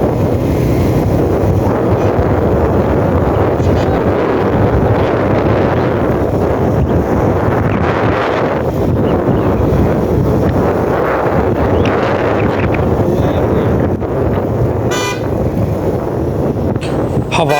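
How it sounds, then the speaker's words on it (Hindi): Strong gusting wind at Babusar Top mountain pass buffets the microphone in loud, continuous rumbling blasts, with a voice talking faintly beneath. "हवा का प्रेशर देखा है, बहुत ज़्यादा प्रेशर है हवा का"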